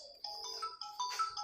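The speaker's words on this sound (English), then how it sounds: "Mobile is ringing" A mobile phone plays a melodic ringtone, a short sequence of clear, bright electronic notes. It sounds close and is heard on its own, with no talking.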